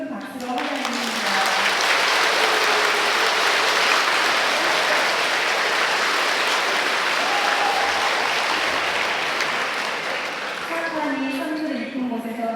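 A Catholic retreat audience in the Uijeongbu Diocese gives a Franciscan priest loud, sustained applause lasting over ten seconds, with brief speaking voices at the start and end.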